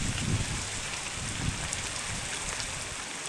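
Heavy rain pours steadily in a forest, a dense, continuous hiss of drops at even loudness throughout, with no voices.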